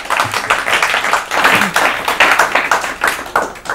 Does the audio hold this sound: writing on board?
no